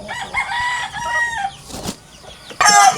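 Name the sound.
chickens and chicks clucking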